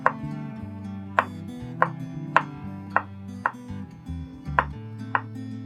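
A knife slices garlic cloves very small on a cutting board, giving about nine crisp, evenly spaced chops in a steady rhythm, close and fairly quiet, with no talking.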